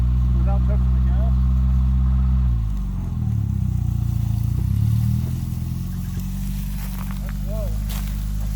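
A Suzuki Samurai engine fitted with a Toyota carburetor, in four-low gear, runs with a deep, loud idle that sags lower partway through, then settles into a steady throb while people talk over it nearby.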